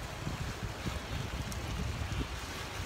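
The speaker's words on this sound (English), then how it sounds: "It's probably so windy right now," Wind buffets a chest-mounted GoPro microphone in a constant low rumble, loud and close, with gusty swells throughout and no voices.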